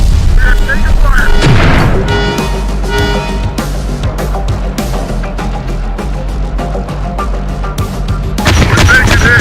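Battle in the Terminator Dark Fate Defiance video game: loud, dense bursts of gunfire and heavy booming explosions rolling one after another, with a rumbling low end, and voices calling out over the combat.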